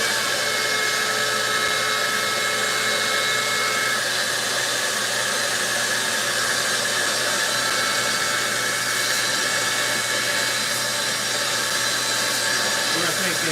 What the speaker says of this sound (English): damn shop vac is old as fuck